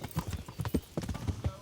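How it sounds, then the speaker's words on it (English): Horse hooves clip-clopping at a steady walk in the video game Kingdom Come: Deliverance, an even, rhythmic series of soft, close thuds with faint background tones. "At least this time we are on a horse."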